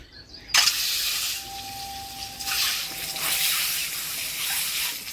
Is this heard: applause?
no